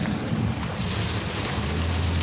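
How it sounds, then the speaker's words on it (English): Hail pelts a car in a dense, continuous drumming patter, loud and close, with a low rumble beneath and no voices. "it's literally hailing."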